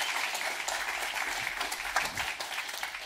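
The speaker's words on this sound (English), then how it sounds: "Please give Pastor Mauricio another round of applause." A round of applause at a church leadership conference session, a dense, fairly distant patter of clapping from the audience that holds steady throughout.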